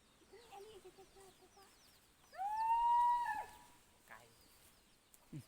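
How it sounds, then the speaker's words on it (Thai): A chicken on a farm in Laos clucks in soft short notes, then lets out one louder drawn-out squawk in the middle before quieter clucks return, with faint background noise. "ไก่น่ะก็ลายเนาะ"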